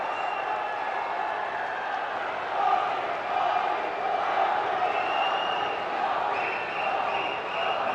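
Large crowd at an outdoor public rally in Gurugram, welcoming India's Prime Minister with applause at a highway project inauguration; steady, dense clapping and crowd noise fill the whole stretch at moderate level, with a few swells.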